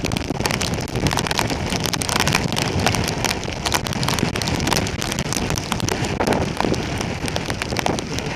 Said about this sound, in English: This rain hurts.